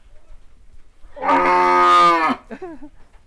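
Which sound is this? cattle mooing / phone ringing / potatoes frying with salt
cattle mooing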